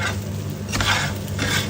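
Nasi goreng being fried in a pan, with a steady sizzle and rustling stir strokes that swell in two louder bursts, no talking.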